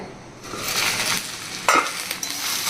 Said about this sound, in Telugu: మధ్య మధ్యలో ఇలా కలుపుతూ ఉండాలండి ఇది ఐరన్ కళ కాబట్టి తొందరగా మాడదు చక్కగా వేగుతుంది